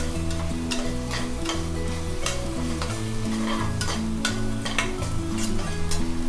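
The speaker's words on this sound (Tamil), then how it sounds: "வெங்காயம் வந்து நம்மளுக்கு நல்லா வதங்கணும்." Chopped onions sauté in a pan for mutton keema rice, giving a steady, close sizzle broken by repeated scraping stirs.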